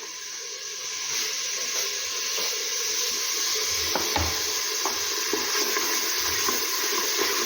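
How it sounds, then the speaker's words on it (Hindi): Spiced masala paste sizzles and fries steadily in a pan on a home stove, a continuous hiss with faint stirring scrapes and no talking. "बस इसको मसाला भूनना है सिंपल।"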